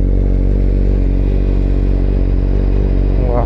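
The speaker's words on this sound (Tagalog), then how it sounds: "Sarap talaga pigain ng Fireblade." A Honda CBR1000RR-R Fireblade engine runs loud and close with a dense, steady mechanical drone that swells slightly near the end, with no talk over it.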